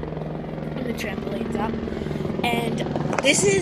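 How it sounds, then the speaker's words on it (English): A helicopter passes overhead outdoors, its steady rotor thrum and drone loud and continuous beneath a person talking close to the microphone. "there's a plane, a helicopter there, so it's pretty loud"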